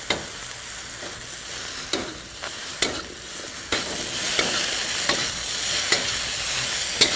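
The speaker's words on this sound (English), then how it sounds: "So now you have to stir fry your eggplants for about 10 minutes." Eggplants stir-fry in spiced ghee, with a steady sizzle and crackle under repeated scraping and clacking strokes of a stirring utensil, loud and close.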